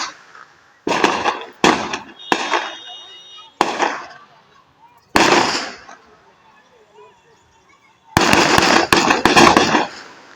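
Rapid gunfire from a gang shooting in Mokama, Bihar: loud sharp cracks come in irregular clusters, a few isolated shots and then a dense burst at the end, with brief silences between.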